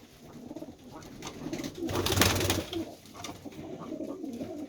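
A young pigeon, about six or seven months old and just beginning to call, coos softly in a coop in the evening, repeated low murmuring phrases at close range with no voices.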